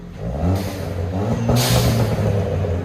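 Ford Fiesta ST engine revving through a Thermal R&D cat-back exhaust, a sustained mid-pitched drone with two sharper rises in revs, close and fairly loud throughout.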